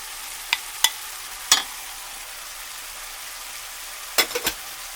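Potatoes go into a frying pan for minestrone soup over a soft, steady background sizzle, with a few sharp clatters from the pieces landing and from stirring.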